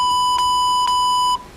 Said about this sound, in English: That beeping were the things that we couldn't air.